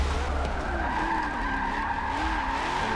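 Tires squeal continuously as a car drifts in the racing game Forza 7, played with a Logitech G920 wheel, the engine droning steadily under the loud, sustained skid.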